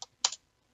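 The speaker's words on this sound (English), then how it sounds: "I'm just gonna keep typing" Two short bursts of computer keyboard typing at close range while entering commands to host a website on a Raspberry Pi 3, a brief clatter followed by a denser flurry of keystrokes, then quiet.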